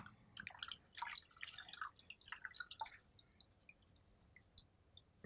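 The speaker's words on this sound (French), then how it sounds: "Donc bien essorer." Water dripping and squishing as soaked gelatin sheets are wrung out by hand, a series of faint, irregular close drips and splashes over a quiet background.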